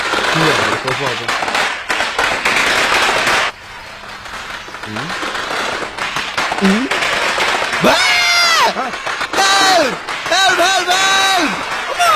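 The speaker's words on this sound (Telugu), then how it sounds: "దీపావళి కాదు కానీ క్రాకర్స్ పేలుతున్నాయి" Firecrackers bursting in a residential colony, sharp irregular cracks and pops scattered through a busy soundtrack, heard under talking voices and musical tones rather than alone.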